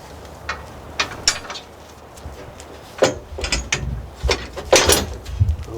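Ratcheting and metallic clicking as a bolt is started and tightened while a snow plow is mounted onto a vehicle, in irregular close bursts over a steady background hiss, with no voices.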